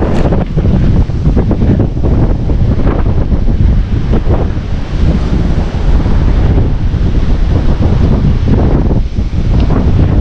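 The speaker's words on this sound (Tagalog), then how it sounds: "Pakahangin po talaga ngayon." Strong wind buffets the microphone in a continuous loud roar during fishing, with a broad rushing noise that barely lets up, like gusts near open water.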